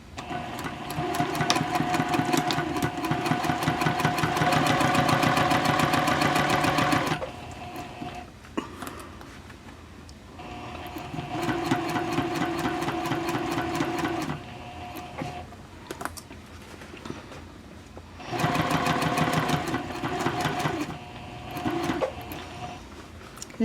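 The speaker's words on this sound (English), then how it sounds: "we're just going to sew a 1/2 inch away from the edge" A sewing machine runs a 2.5 stitch length seam half an inch from the edge of a messenger handbag, whirring loudly in three steady bursts separated by quieter pauses.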